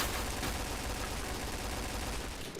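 Gunfire in the video game Point Blank, a dense continuous rattle of rapid shots that holds steady and loud for the whole stretch, with no pauses between bursts.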